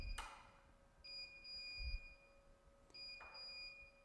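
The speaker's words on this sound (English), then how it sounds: "The beeping will stop and it will auto-correct." High-pitched electronic error beeping from an SWF commercial embroidery machine with its main shaft out of position, repeating in evenly spaced short tones, fairly quiet, with a brief pause before the pattern starts again.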